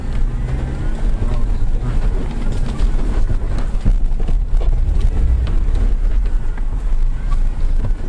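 A jeep drives off-road over a rough mountain track, its engine throbbing loudly and continuously through the clip amid wind buffeting and jolting bumps.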